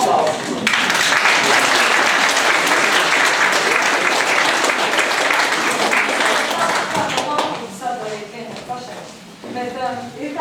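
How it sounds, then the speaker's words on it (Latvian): An audience at a concert applauds a mixed choir and its conductor with loud, sustained clapping that fades after several seconds, as a voice starts speaking near the end. "Aplausi!"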